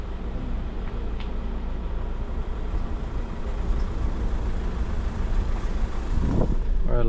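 Car grinds along a steep, rough dirt road in the rural Philippines, a low steady engine rumble with rattling and bumps, slightly building toward the end, no talk.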